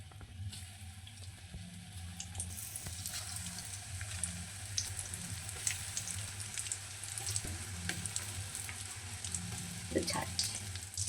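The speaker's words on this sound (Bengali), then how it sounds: "বলগুলো ছেড়ে দিলাম তেলে," Chicken balls fry in hot oil in a covered wok, a continuous close sizzle with fine crackling pops and occasional louder spits, no talking.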